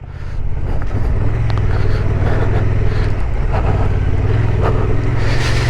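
A Honda XL750 Transalp motorcycle rides off-road on gravel with traction control off, giving a loud, steady engine drone mixed with heavy wind rush. The noise runs close and continuous throughout, with no pauses.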